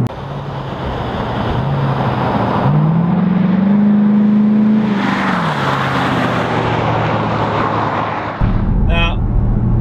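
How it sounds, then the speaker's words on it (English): A modified 2006 Ford Mustang GT with a 4.6-liter V8 drives along, its engine note rising and holding as it accelerates, then easing, a loud steady roar with wind and road noise around it. "the one I'm driving right now is my personal Mustang, and it's been modified just a little bit"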